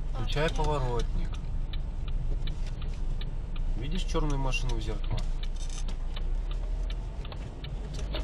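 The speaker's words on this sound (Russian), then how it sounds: "Включай поворотник." Car turn signal ticking steadily inside a driving-school car during a lesson, a regular clicking pulse running under engine hum while an instructor and student talk.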